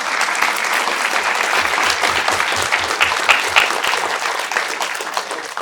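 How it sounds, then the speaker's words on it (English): Audience applause at a hackathon closing ceremony, a sustained burst of many hands clapping, close and loud, with low thumps and a few cheers partway through before it slowly tapers. "huge, huge round of applause."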